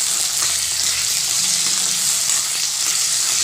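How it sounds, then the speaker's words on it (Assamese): Mixed vegetables fry in hot oil in a kadai for masala khichdi, a loud, even sizzle with faint stirring scrapes, continuous and close, without speech. "এতিয়া মই সবজিখিনি এটা এটাকে ভাজি লম এয়া মই সবজিখিনি গটেখিনি দি দিলো"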